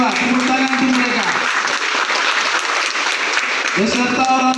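A crowd applauds the 152 new students of a Christian theology college in Nabire at a welcoming ceremony, with steady, full clapping that fills the whole stretch and a voice speaking over it.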